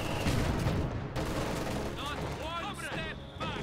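Mortar and artillery-style gunfire in a strategy war game, a steady barrage of overlapping blasts and shots running throughout at moderate loudness, with bursts of chirping effects and a voice-like layer mixed in toward the end.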